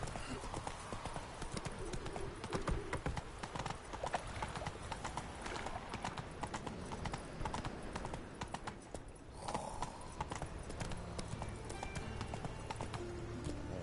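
Roach, a horse in The Witcher 3, galloping with steady rapid clip-clop hoofbeats that run continuously and loudly throughout, with a brief whinny-like moment and background game ambience.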